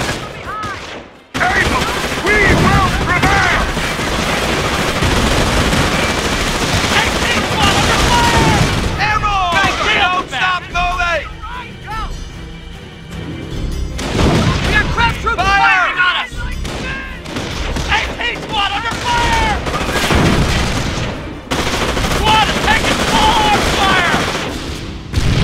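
Dense bursts of rifle and machine-gun fire crackle in the strategy war game Company of Heroes, with booming explosions and artillery, loud and close, broken by brief lulls while soldiers' voices shout over the battle.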